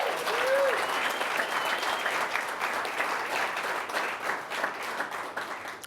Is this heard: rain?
no